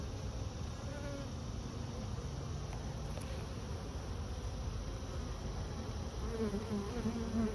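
Bees buzz steadily and densely from an open hive that may have no queen or laying workers, a close, continuous hum with no voices over it.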